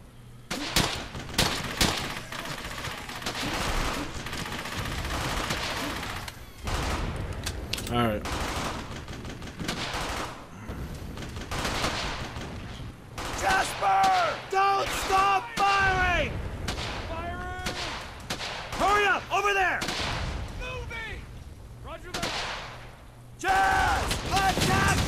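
Sustained battlefield gunfire in the video game Brothers In Arms: Hell's Highway, with bursts of machine-gun and rifle shots and booming blasts layered under shouted voices throughout.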